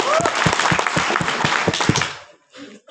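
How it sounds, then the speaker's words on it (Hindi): An audience at a lecture gathering bursts into loud, fast applause with dense rhythmic clapping for about two seconds, then it quickly dies away into near silence with a few scattered claps. "तो मैं चाहूंगा सर के लिए पहले तो एक बार जोरदार तालियां होंगी"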